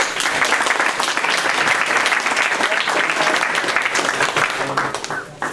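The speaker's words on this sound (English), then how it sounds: "I want y'all to give a good round of applause for David Buttross." Loud, dense audience applause in a conference room for a speaker introduced at an investing talk, a full sustained round of clapping that tapers off near the end.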